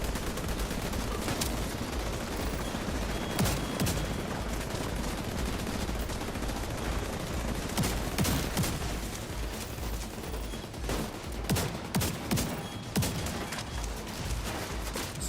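Gunfire in The Division 2 combat, including a sniper rifle, with sustained bursts and rapid automatic fire plus sharp single shots scattered through, loud and continuous without talk.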